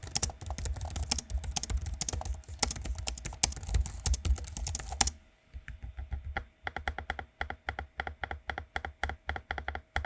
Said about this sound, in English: if you're curious what it sounds like using the keyboard and trackpad, here's the audio sample for you